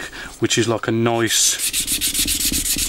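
A sponge sanding stick of medium to fine grit rubs across the wooden hull of a 1/84 scale HMS Victory model, producing rapid, rhythmic close-up scratching strokes after a few spoken words.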